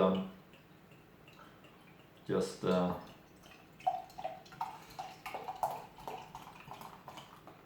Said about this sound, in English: Rinse it, use only cold water like this.